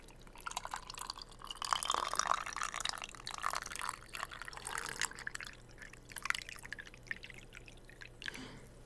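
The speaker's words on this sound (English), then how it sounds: "A little ASMR pour for you." Iced tea poured into a glass at home in the evening, a steady close liquid trickle with splashing and dripping that runs continuously, slightly brighter in the first seconds, with no talking.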